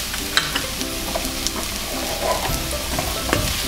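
Chopped tomato with garam masala sautéing in a pan for a coconut-milk chicken curry, with loud sizzling, repeated spatula scrapes and clicks, and the clatter rising toward the end.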